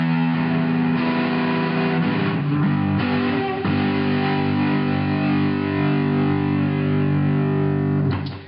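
An electric guitar plays with delay and reverb from a Fender Princeton amp, sending loud, sustained, distorted notes that ring out and trail smoothly into one another throughout.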